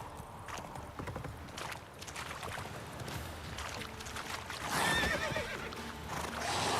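Roach, a horse in The Witcher 3, clip-clops along with steady hoofbeats, then gives a clear neigh partway through, close and alone over rustling ambience.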